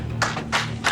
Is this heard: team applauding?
yes